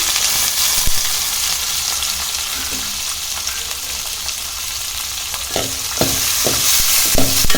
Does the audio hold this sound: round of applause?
no